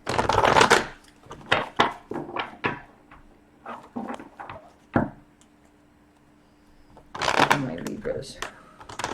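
Tarot cards are shuffled by hand in loud crisp bursts at the start and end, with softer riffling and tapping in between while someone speaks softly over them.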